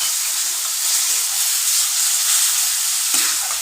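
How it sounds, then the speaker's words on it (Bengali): Tomato and onion paste goes into a hot pan for a fish roe fritter curry and hisses loudly, a steady close sizzle with a brief stir near the end. "এবার আমি একটা টমেটো আর একটা পেঁয়াজ এই যে পেস্ট করে রেখেছিলাম এইটাকে দিয়ে দিলাম"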